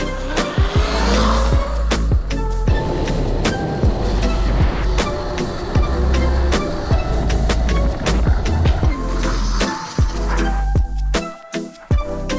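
Vehicle engine and tires rolling over rough ground at close range, with repeated knocks, rattles and clunks throughout, while a truck drives along hauling a tiny house.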